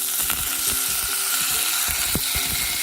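Rice tipped into a pan of sizzling, well-browned shallots, giving a loud, steady close frying hiss dotted with irregular crackles and pops.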